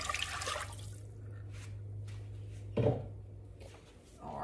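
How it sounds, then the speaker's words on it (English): Sixteen ounces of water poured for a blackberry cobbler, a steady low trickle with a brief louder splash partway through, quiet and close, no talk. "So we're gonna pour our water"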